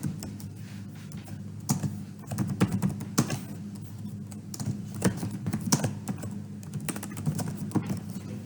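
Rapid, irregular clicking of fingers typing on a computer keyboard, close and fairly quiet, with short bursts of keystrokes running steadily over a low background hum.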